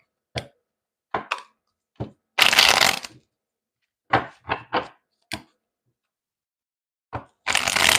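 Tarot cards are handled up close in quiet surroundings: sharp taps and snaps, then two short riffling bursts of shuffling, each lasting under a second.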